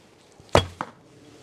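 An arrow is loosed from a Simsek Short Sipahi bow drawing 38 lbs at 28 inches. A sharp, close snap of the string is followed moments later by a fainter thump, then quiet.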